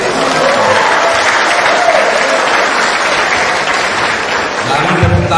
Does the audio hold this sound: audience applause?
yes